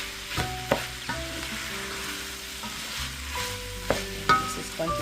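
Corned beef being stirred into cabbage and vegetables in a hot pan: a close sizzle broken by repeated spoon scrapes and metallic clinks against the pan, no voices.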